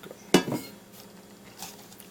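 A rice cooker pan and its small measuring cup clatter once sharply together in a kitchen while rice is rinsed for homemade sushi, followed by a faint second clink a moment later.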